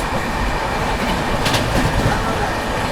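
From a moving train, the Chandigarh–Madgaon Goa Sampark Kranti Express passes on the opposite track, a brief dense roar of rushing carriages with a sharp burst midway, loud and close.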